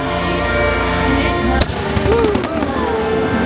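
Cannons firing during the Luminous: The Symphony of Us fireworks show at Epcot, Walt Disney World, with loud booming bursts and a sharp crack midway over a sustained musical score.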